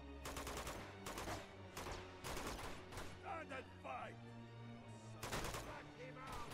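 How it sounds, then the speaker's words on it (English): Elena fires from above in Uncharted 2, with repeated loud bursts of rapid gunfire in clusters separated by short gaps, and a voice speaking in the quieter spaces between. "it's Elena that's shooting at the top"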